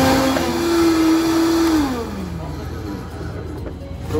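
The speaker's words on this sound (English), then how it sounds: "you blend this before you put any frozen fruit in" Kitchen blender whirring through a kale, parsley and chopped half-apple smoothie base, a loud steady motor drone that drops in pitch as it slows partway through, with talk over it.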